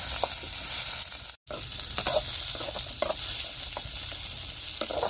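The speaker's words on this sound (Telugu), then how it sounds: "పచ్చిమిరపకాయలు ఎర్రగడ్డలు అయితే లైట్గా వేయించుతా" Green chillies and onions sizzle lightly in a hot pan, a steady dense frying hiss with soft stirring clicks, broken by one brief cut near the start.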